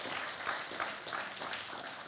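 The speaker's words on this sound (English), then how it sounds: "give them all a round of hand of applause" Healthcare summit audience giving a round of applause, a dense steady patter of many hands clapping, fairly faint and distant, continuous throughout.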